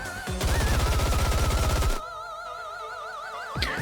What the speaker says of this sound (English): Rappy stands up, aims her weapon at the phantasms and pulls the trigger